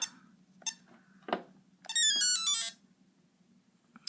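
Short electronic beeps and chirpy tone sequences from a handheld electronic Battleship game, including a longer bright warbling tune, over a low steady hum.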